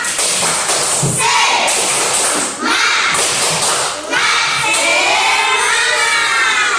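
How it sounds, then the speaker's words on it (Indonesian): A school class performs a 'tepuk semangat' clapping chant together, with loud rhythmic group claps mixed with children shouting in unison, a short pause in the middle, then more energetic clapping and cheering. "Coba dulu, tepuk semangat."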